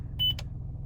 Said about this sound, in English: you hold plus or minus up, hear a beep